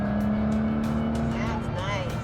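A V12 exotic sports car drives along with a steady loud engine drone and a strong low hum, while people talk over it inside the car.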